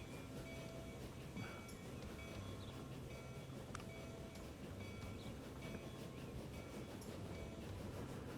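Train running in Transport Fever 2, a steady rolling rumble with faint clicks and occasional high metallic squeaks, continuous and moderately loud throughout with no talking.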